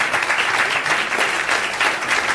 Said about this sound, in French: On applaudit aussi très fort Harrison